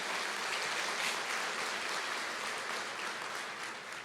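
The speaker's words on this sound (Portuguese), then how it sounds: "pode dar uma salva de palmas, a palavra do Senhor merece" Steady, fairly faint applause from a church congregation fills the room, a dense even wash of clapping with no talk over it.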